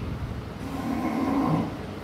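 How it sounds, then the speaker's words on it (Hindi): A man sleeping in a storeroom snores in a low, rumbling drone that swells through the middle of the stretch and then eases, steady and fairly close. "गोदाम में अर्जुन खर्राटे भर के सो रहा था।"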